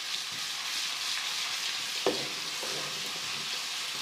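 Garlic ginger paste frying with onions in a pan over low flame, a soft continuous sizzle with a brief scrape of stirring midway, close and fairly quiet with no voices.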